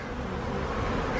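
Honeybees in a hive open for a February checkup, feeding on sugar and pollen, make a dense, continuous buzzing drone close by.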